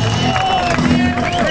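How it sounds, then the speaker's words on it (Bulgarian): A crowd at an outdoor drift show in Sofia claps and cheers in a brief, loud burst of mixed applause and hubbub, with a voice carrying over it. "Едни аплодисменти за перфектното паркиране."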